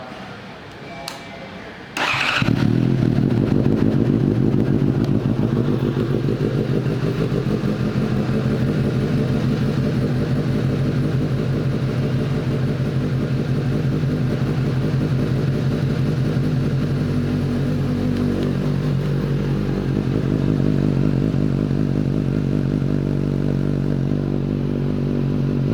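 A 2020 Suzuki GSX-S750 motorcycle engine starts after a brief click and settles into a steady, loud, close idle that runs unbroken to the end.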